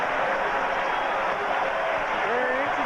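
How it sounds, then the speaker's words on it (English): A basketball arena crowd at the United Center roars in a steady, dense wash of cheering during a 1998 Bulls–Pacers playoff game, loud and continuous beneath faint commentary. "The crowd's getting excited"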